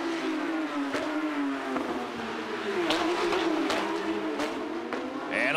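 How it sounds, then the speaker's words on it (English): Porsche GT3 Cup race cars on Yokohama tires screaming around the Toronto street circuit, loud continuous engine whine shifting in pitch with gear changes as the pack passes, under race commentary. "little bit of a lockup from Fenton into turn number three as he tries to get the most of those Yokohama tires"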